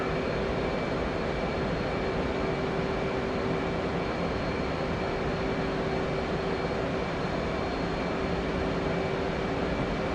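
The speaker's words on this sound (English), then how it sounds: "Alright, I'm gonna go in full afterburner." An F/A-18C in the DCS World game roars at full afterburner, a dense, steady, continuous jet rush with a faint constant tone, unchanging for the whole span.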